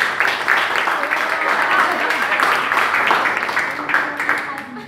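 A crowd at a marketing school event applauds, dense continuous clapping with some voices and cheers mixed in, loud and sustained throughout.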